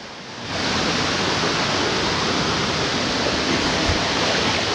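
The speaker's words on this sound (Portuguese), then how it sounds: "Tá aí, é uma cachoeirinha." A small waterfall on an expedition through Chapada das Mesas in the Brazilian sertão, giving a loud, steady, broadband rush of falling water that swells up in the first half second and then holds constant with no voices.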